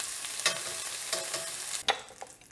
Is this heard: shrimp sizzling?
yes